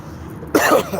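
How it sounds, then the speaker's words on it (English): A single short, harsh cough bursts out after a brief quiet moment, close and fairly loud. "Damn, I'm coughing."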